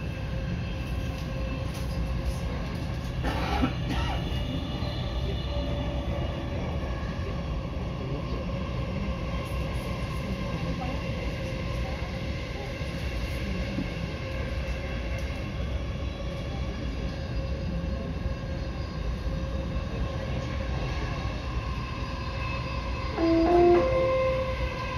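A Dubai Metro train running between stations toward Expo 2020, a steady interior rumble and hum with a faint tone near the end, heard from on board.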